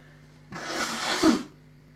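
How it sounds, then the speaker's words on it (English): A single sharp sneeze bursts out close by, a short explosive blast of breath lasting about a second, with quiet room tone before and after. "need to sneeze again"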